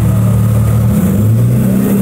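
A BMW car engine at a car meet, revving steadily with a deep, continuous mid-range drone that rises and falls slightly, loud and close throughout with no talking.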